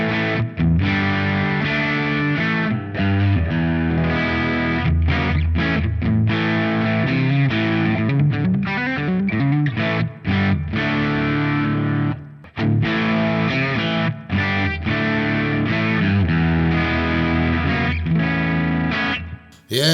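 An electric guitar through a Hotone Ampero Mini JTM45 amp model on the high treble channel with lots of gain, playing driven chords and riffs continuously, loud and close with no talking.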